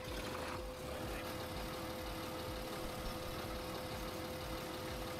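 A small 125 hp tractor engine from a Farming Simulator 2013 mod runs at a steady idle-like drone. The low rumble and a constant tonal hum hold throughout, and no voices can be heard.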